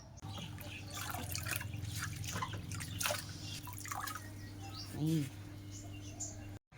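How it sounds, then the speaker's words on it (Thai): Wet dripping and squelching as juice is squeezed by hand from shredded mango, soft irregular drips close by over a steady low hum, with someone speaking at times. "คั้นน้ำแรกนะคะ"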